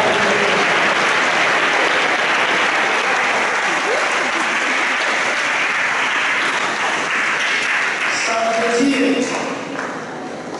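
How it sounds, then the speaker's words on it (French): A church congregation at St Joseph in Toamasina applauds a faith profession ceremony with loud, sustained, dense clapping from many hands, filling the space and tapering slightly at the end, with faint voices beneath. "Donc ça mérite des applaudissements de notre part."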